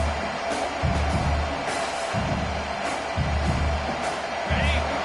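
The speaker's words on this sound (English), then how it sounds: "And the crowd coming to life here, trying to help this defense down in the red zone." A stadium crowd in the College Football 26 video game swells in surging waves of cheering and roar, loud and continuous, with a commentator's voice over it.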